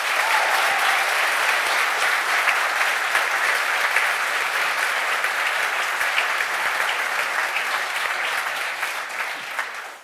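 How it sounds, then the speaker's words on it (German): A studio audience at a German sports talk show applauds a guest, a loud, even wash of many hands clapping that holds steady for ten seconds before tapering off at the end, with no talking. "einen großen Applaus bitte"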